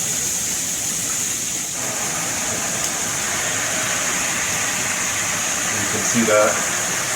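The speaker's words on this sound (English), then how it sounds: "You have both the rain and the handheld going at the same time" Chrome HammerHead all-metal dual shower head, with the 8-inch rain head and the handheld both running, giving a steady hiss of spraying water close by, with someone speaking briefly over it.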